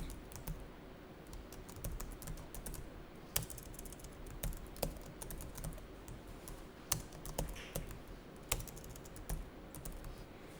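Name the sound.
typing on computer keyboard into accounting software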